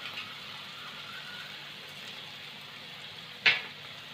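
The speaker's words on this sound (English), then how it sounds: "But this has to be sauteed nicely." Ground masala for Goan-style stuffed squid sautéing in a pan, a faint, steady sizzle running throughout, broken by one sharp short clink near the end.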